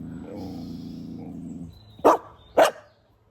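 A dog growls low for a moment, then lets out two sharp, loud barks close by, after which it goes quiet.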